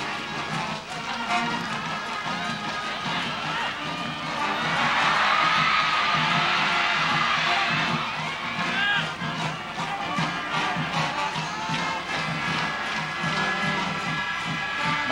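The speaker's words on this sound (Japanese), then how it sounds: "バックスタンドから大きな声援を送っています" Crowd of high school students cheering loudly from the back stand at a Saitama prefectural final of the national high school football championship, a broad sustained roar swelling midway under a commentator's voice.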